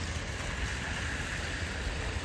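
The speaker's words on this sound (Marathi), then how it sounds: "आता पाऊस काय कंटिन्यूच आहे" Steady, continuous rain near the Ekvira temple at Lonavala, a dense even hiss with no breaks and no voices across the short stretch.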